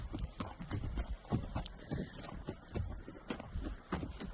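Horse hooves clip-clopping on a trail ride, a steady walking rhythm of close, distinct hoof strikes repeating throughout with no talk.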